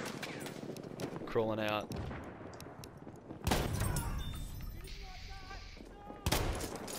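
Bursts of gunfire ring out in a shooter video game, with a loud volley near the start and more heavy shots later, layered over a player's voice talking.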